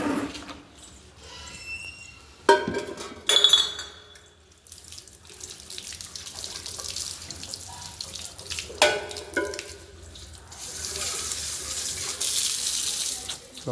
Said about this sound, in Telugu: ఇప్పుడు వాటర్తో కడిగితే చూడండి ఎంత తెల్లగా వస్తుందో.